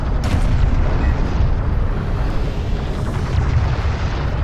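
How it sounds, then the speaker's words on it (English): A heavy, sustained rumbling blast as an anti-air turret post is destroyed in the real-time strategy game Homeworld: Deserts of Kharak, thick low-end boom rolling continuously for several seconds. "Anti-air turret post destroyed."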